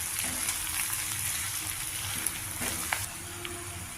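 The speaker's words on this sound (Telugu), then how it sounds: "నెమ్మదిగా సిమ్లో పెట్టి వేయించాలి" Onions and spices frying over a low flame give a steady, close sizzle with soft crackles and a few brief pops and scrapes, alone with no talk.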